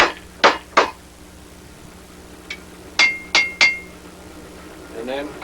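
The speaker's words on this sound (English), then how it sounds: "Every now and then you have to flatten that back out on the anvil." A hammer flattens distorted metal against an anvil in beginner blacksmith work, striking a few sharp, ringing blows in irregular bursts with quiet pauses between, close and clear.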